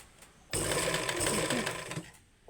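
A sewing machine runs in one continuous burst of stitching through fabric at a seam joint, starting abruptly and stopping after about a second and a half, loud and close with no talk over it.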